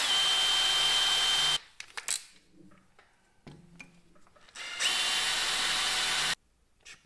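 Power drill boring a small pilot hole for brake caliper screws on a Golf 1 GTI brake upgrade, two loud sustained whirring bursts separated by quieter handling clatter and pauses.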